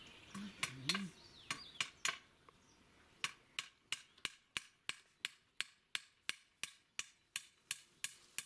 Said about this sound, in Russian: Сейчас дедушка гвоздики забьет.